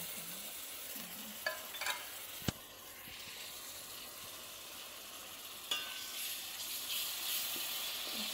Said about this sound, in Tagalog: Naglagay ako ng tuna. Ayan. Isang kan na tuna. Hahaluin lang natin.